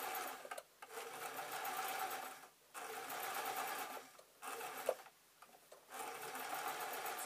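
A sewing machine stitches owl-shaped fabric pieces in several short, even runs separated by brief stops, the motor whirring close and clear with no talk.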